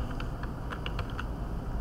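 Quick keystrokes on a computer keyboard entering a search on a Windows 10 PC, a burst of about eight close, crisp clicks in a short irregular run, then quiet room tone.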